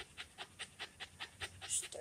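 Great Pyrenees puppies pant in Texas heat, a rapid, steady rhythm of about ten quick breaths close by, each a short airy huff repeating evenly, with no talk over it.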